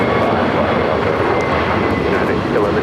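An airplane roars steadily at LAX, a loud continuous broadband engine rush heard outdoors near the airfield, with a voice talking underneath.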